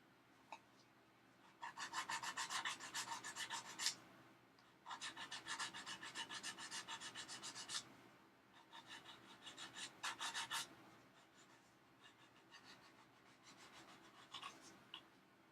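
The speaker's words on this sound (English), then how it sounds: "I'm always constantly sanding this thing," Sanding a PB2Y Coronado flying boat scale model, heard as rhythmic back-and-forth rasping in several bursts of quick strokes with short pauses between them, close and fairly quiet, with no talking.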